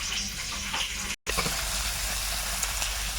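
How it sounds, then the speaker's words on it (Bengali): Chopped onion tossed into hot oil in a wok, frying with a steady, close, crackling sizzle that runs through the whole clip, broken only by a brief dropout. "ওই তেলের মধ্যে পেঁয়াজ কুচি দিয়ে দেবো"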